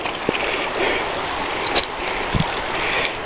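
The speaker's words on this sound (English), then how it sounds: "We got a creek crossing here." A creek flows at a trail crossing on the Pinhoti Trail, a steady broadband rush of water close by with a few brief splashes.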